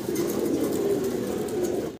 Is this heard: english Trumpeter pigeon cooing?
yes